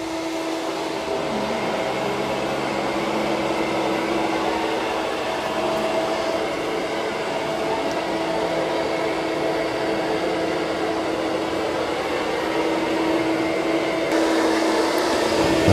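A Eureka E10s or Roborock Q7 Max+ robot vacuum and mop cleans a floor with LiDAR navigation, giving a steady, close whirring motor hum with airy suction noise that holds evenly throughout, with no talking.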